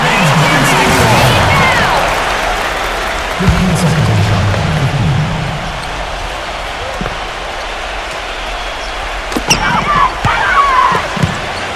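Home crowd roaring steadily at an Oracle Arena NBA basketball game, a loud continuous wash of cheering with a commentator's voice over it and sharper bursts of noise near the end.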